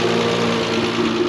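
A 1968 Triumph GT6 engine runs at a steady idle after an oil change and cooling system flush, a loud, close, even hum with a low droning tone and no voices.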